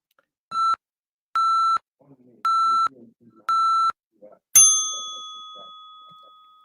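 Four evenly spaced electronic timer beeps, each a clean steady tone about half a second long, set for a five-minute debate round, followed by a single bright chime that rings out and fades slowly, with faint murmuring between the beeps.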